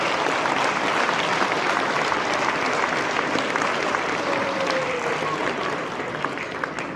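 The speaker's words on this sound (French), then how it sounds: "encore une bonne main d'applaudissements" A sustained round of applause from the crowd at Quebec's agricultural hall of fame ceremony honours partners, even and continuous clapping that eases slightly toward the end, with faint voices underneath.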